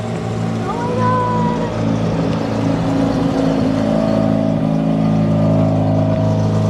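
A big-turbo Mazda RX-7 FC3S with a freshly installed motor runs loud and close, its engine droning steadily with tonal rises as it revs, and a voice is faintly audible underneath.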